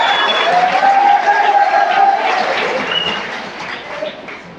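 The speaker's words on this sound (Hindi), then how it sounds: "Please give him a big cheer, ज़रा ताली बजाइए सर के लिए।" Classroom audience at a thermodynamics lecture claps for their teacher, a loud burst of mixed clapping and a few cheers that slowly fades, with faint murmuring voices underneath.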